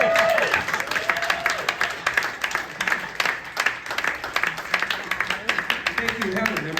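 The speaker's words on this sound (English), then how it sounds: "Give Helen a round of applause." Audience applause at a live talk event where a musician is unveiling a new album, a dense crowd of clapping that runs steadily throughout, loud and close, with cheers and a voice rising over it.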